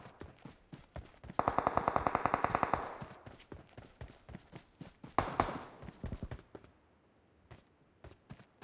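Kalashnikov rifle fire in a video game: a sustained burst of rapid automatic shots, then scattered single and short-burst shots, loud and close with game sounds between.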